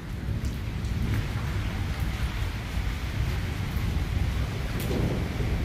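Torrential rain hammers down in Islamabad with big, heavy drops, a constant loud wash layered over deep rolling thunder that grumbles without a break.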